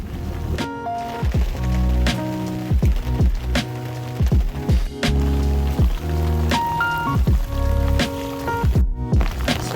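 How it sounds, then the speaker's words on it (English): Heavy rain pounds down on a Dufour 31 sailboat on the way to Pampus Island, a loud, close, continuous patter of drops with sharp ringing taps against the boat's surfaces throughout. "It's raining super harsh"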